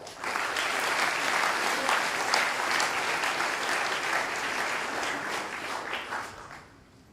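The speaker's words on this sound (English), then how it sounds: "Give him a round of applause." Audience applause fills a high school sports awards ceremony, a steady, dense wash of clapping from a crowded room that holds for several seconds before tapering off at the end.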